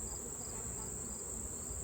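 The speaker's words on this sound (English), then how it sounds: "Just be careful not to squish any bees." Honeybees swarm around an open hive during a honey harvest, making a faint, steady, high buzzing drone that continues without break.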